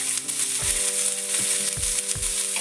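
Masala with chopped onion and coriander seed frying in a pan for fish curry, a loud, dense sizzle throughout with a few soft thumps from stirring.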